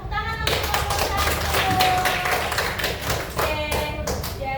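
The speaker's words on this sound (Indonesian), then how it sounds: "Tepuk tangan untuk nomor" A classroom applauds a student with brisk, steady clapping from many hands that fills the whole stretch. The sound is loud and close, with a few sharper taps near the end.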